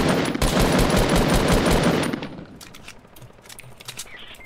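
Rapid automatic gunfire in the video game Fortnite, a loud dense burst of shots for about two seconds, then breaking into scattered fainter single cracks.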